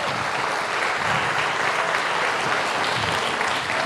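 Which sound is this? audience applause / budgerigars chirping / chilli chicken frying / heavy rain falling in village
audience applause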